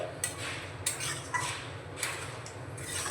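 A spoon scrapes and knocks against a pot while chickpea and pea curry ingredients are stirred together, giving soft irregular clinks and scraping, fairly quiet with no talk.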